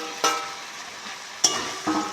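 Potatoes and pointed gourd are sautéed in a thick gravy, with a soft continuous sizzle broken by a few sharp spoon scrapes against the pan, close and without talk.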